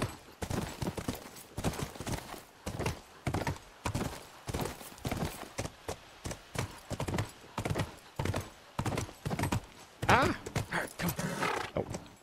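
Horse hooves clip-clop steadily in The Last of Us video game, a continuous rhythmic trot with a whinny partway through, heard close against game ambience.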